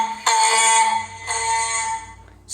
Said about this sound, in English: That's a fire alarm sound. It's really loud.